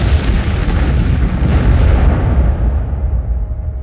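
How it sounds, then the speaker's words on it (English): A loud bomb explosion used as a sound effect in a World War I history piece bursts out in a long, heavy rumbling boom that slowly fades, with nothing else heard over it. "And then, the bomb goes off."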